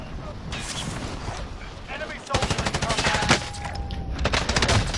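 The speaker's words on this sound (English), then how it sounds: "I'm being sniped at" Gunfire in the battle royale video game Kingslayer, where the player is being sniped at: rapid bursts of loud, close cracks come in quick succession midway through and again near the end, over game ambience and a voice talking.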